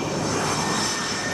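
An F-18 jet engine roars on an aircraft carrier deck near the catapult, a loud, steady, unbroken blast of noise heard alone.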